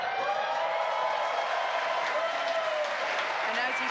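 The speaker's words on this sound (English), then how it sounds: "you can hear by the clapping and cheering behind me, Falcon 9 has landed on our drone ship" A crowd in a mission control room claps and cheers continuously after a Falcon 9 first-stage booster lands on a drone ship, dense steady applause with whoops, heard under a close voice talking.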